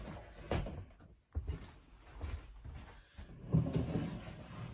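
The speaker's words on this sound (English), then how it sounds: "close the doors" Doors in the master bedroom of a 2021 Forest River Vibe 28QB travel trailer are slid and closed, giving a few soft, muffled thuds and rolling knocks in a quiet interior.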